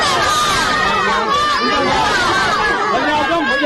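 Schoolchildren chant a slogan together in a loud, dense crowd during a prime minister's visit to flood victims in Dadu, with overlapping young voices and babble filling the space continuously.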